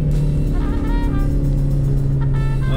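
A little Mazda Miata crawls uphill in snow, its engine holding a steady, low droning hum throughout with slight variations in pitch.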